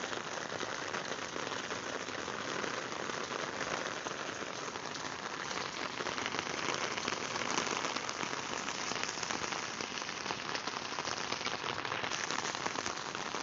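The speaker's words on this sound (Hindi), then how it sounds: "ये आप देख सकते हैं बहुत शदीद बारिश हो रही है सामने" Heavy monsoon rain in Gulzar-e-Hijri, Karachi, pours down in a dense, steady hiss of countless drops pattering on surfaces, unbroken and even from start to finish.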